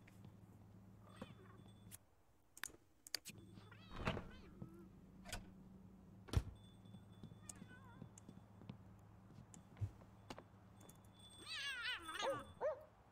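Cats meow now and then in The Sims 2 life-simulation game, with short cries scattered over a low game soundtrack and a louder cluster of meows near the end.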